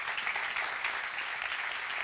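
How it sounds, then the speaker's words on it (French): Warm audience applause closes a French debate on democracy and AI: a continuous wash of many hands clapping at even loudness, heard alone. "Je pense qu'on peut les applaudir chaleureusement."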